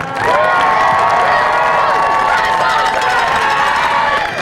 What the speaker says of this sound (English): Give these students a loud round of applause for this accomplishment